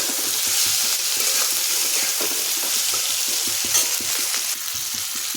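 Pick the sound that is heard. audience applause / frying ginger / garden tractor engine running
frying ginger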